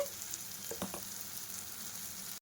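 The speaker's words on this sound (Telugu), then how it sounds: "మనకి బెండకాయ ముక్కలు ఈ ఇంగ్రీడియంట్స్ అంతా బాగా ఫ్రై అయ్యిందని" Okra pieces frying in a pan with spices give a steady, close sizzle throughout, broken by a couple of brief stirring scrapes, then cutting off abruptly at the end.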